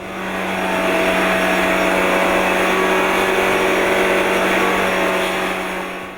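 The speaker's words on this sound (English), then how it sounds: "we've been able to set up a dynamometer that you can tilt the engine to simulate the high G levels" A GM racing engine runs steadily on a tilting dynamometer that simulates high cornering G loads, giving a loud, continuous mechanical roar with a constant low hum that holds even throughout, fading in and out at the edges.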